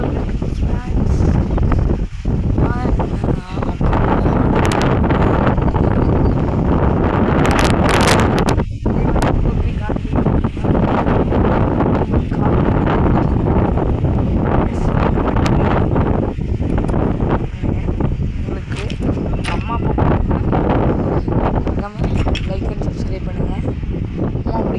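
Strong wind blows through a village during the windy season, roaring and buffeting the microphone in continuous gusts. A person talks under the loud rushing.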